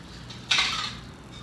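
A plate set down as a lid on a microwave-safe bowl, one sharp close ceramic clink that rings briefly and fades, no talk.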